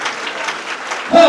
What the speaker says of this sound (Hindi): जोरदार तालियां बजाइए यीशु के जलाल के लिए